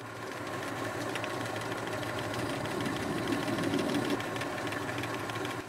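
Steady machine-shop drone of a running lathe with a file riding against the edge of a spinning part to chamfer it, a continuous even grinding rasp over the motor hum, close and unbroken throughout.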